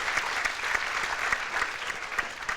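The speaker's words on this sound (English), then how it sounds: "Let's give her a round of applause for bringing that forward." Audience applause fills a teen town hall, a dense, steady clatter of many hands clapping at full strength from start to finish with no pause.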